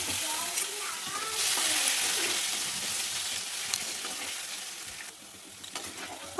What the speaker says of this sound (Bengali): ওই তেলের উপর দিচ্ছি তেজপাতা, গোটা জিরে, দিচ্ছি আলু, ফোড়ন দিয়ে আলুটাকে ভেজে নিচ্ছি।